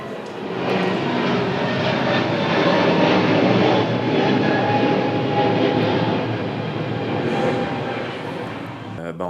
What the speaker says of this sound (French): Écoutez-moi les avions qui passent.